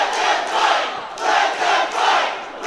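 A large crowd at a live wrestling show roars and chants in loud, rising and falling waves, filling the arena with sustained cheering and no clear talk on top.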